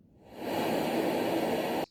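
A white noise machine's steady hiss fades in, holds at an even level, then cuts off abruptly.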